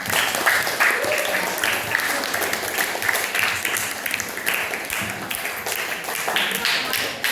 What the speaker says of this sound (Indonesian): Boleh kasih tepuk tangan buat kita semua.